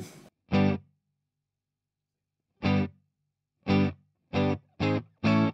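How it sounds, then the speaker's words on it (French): Distorted electric guitar chords played dry through an amp, one chord, a pause, then a rhythmic burst of short stabs, each cut off cleanly into silence. "on va écouter la guitare dans l'ampli à sec"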